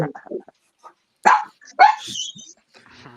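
A dog barks a couple of loud, sharp times in quick succession, with brief scattered sounds and quiet gaps between them.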